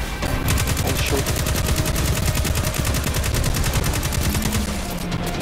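Rapid automatic gunfire from the video game Destiny 2 rattles in a fast, even stream of shots, loud and close, running almost the whole way through before cutting off near the end.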